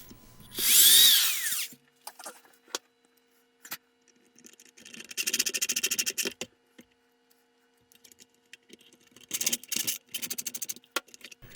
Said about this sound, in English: the retainer plate is screwed into the control panel